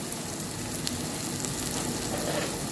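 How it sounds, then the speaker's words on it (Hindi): Grated vegetables and green chillies fry in oil in a pan, a dense continuous sizzle with faint crackles, close and steady throughout. "अब मैं इसको अच्छे से फ्राई कर लेती हूँ।"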